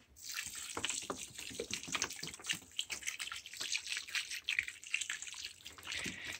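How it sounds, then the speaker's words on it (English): Water pours steadily from a watering can or hose onto soil around a freshly repotted banana plant, a continuous splashing gush with small fluctuations, close and moderately loud, with no talking. "And so I'm going to go ahead and water these in."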